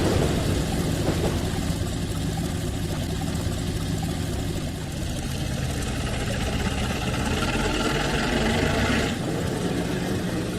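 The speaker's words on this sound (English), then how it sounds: "Love the way these engines sound." Diesel locomotive engines idle and run steadily in the Trainz 2019 railroad simulator on the C&O Hinton route, a dense continuous low rumble with a mid-range drone that holds at an even loudness throughout.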